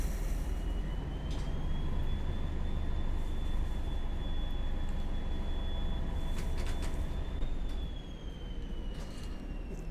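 Class 205 diesel multiple unit in Train Simulator Classic accelerating, a steady loud engine roar and rumble rising in a whining pitch that winds up, then eases slightly near the end, with no talk over it.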